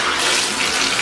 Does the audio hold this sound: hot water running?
yes